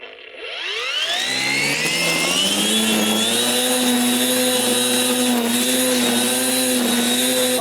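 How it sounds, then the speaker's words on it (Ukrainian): A ProCraft 40V cordless grass trimmer set to auto mode spins up with a rising whine, then holds a loud, steady, high-pitched buzz close by while cutting short grass. "давай зараз спробуємо маленьку травичку покусити, чи оберти не підкине, а потім велику"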